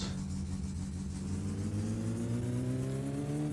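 A car engine in the driving game My Summer Car, damaged after hitting a moose, with a bent steering wheel and a missing exhaust. It drones steadily and close, and its pitch rises gradually as the car accelerates.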